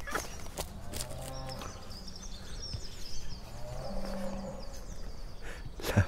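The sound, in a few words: cow mooing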